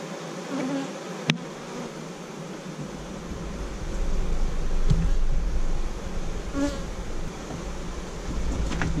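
A honeybee swarm at an apiary hive, during swarm control, fills the air with a dense, continuous buzz that is close and steady and swells slightly midway, with no voices.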